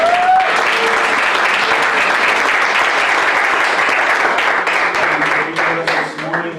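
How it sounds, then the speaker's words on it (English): A church congregation at a Sunday service bursts into loud, sustained applause lasting several seconds, dense clapping that fades slightly at the end with a few voices mixed in. "can we give them a round of applause?"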